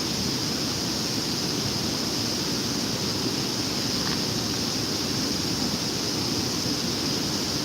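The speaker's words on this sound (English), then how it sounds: "We have a lot of water coming over the spillway" A steady, full roar of heavy river water pours over a big spillway, a constant wash of noise with no breaks. Nearby, someone is fishing for catfish below it.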